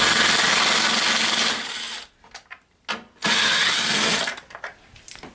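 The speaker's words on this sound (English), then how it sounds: "I'm gonna start by removing these two bolts with a 10 millimeter." A 10 mm wrench loosens two bolts on the air filter housing of a 2000 Voyager, giving two loud, close bursts of rapid ratcheting separated by a short pause with a few softer clicks.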